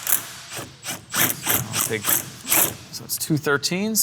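A ratchet loosens the cam sensor on a boosted four-cylinder Saturn engine, giving a run of quick, close metallic clicks in short bursts while someone talks over them.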